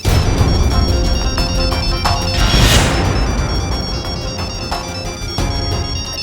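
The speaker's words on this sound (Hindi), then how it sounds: "बुलबुल क्यों फोन कर रही है?" A phone ringtone plays loudly and continuously, a bright looping electronic melody filling the whole stretch with no talking.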